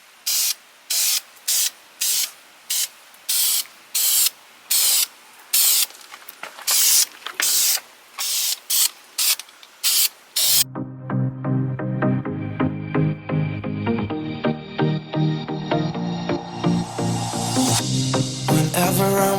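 A dozen or so short hissing bursts from an aerosol spray can spraying paint on rusted car brakes, evenly spaced, then music takes over for the rest.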